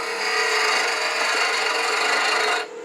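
Wood lathe tool cutting a tenon into a wooden acorn blank, a close, steady scraping hiss that runs continuously and cuts off sharply just before the end.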